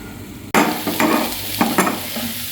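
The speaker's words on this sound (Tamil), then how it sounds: "ஸோ நம்ம இப்போ வந்து மோர் குழம்பு தாளிச்சிடலாம்" Spices for a South Indian buttermilk curry, mor kuzhambu, hit hot oil in a pan with a loud, sudden sizzle that keeps crackling and spitting, with a few brief stirring scrapes. No one speaks.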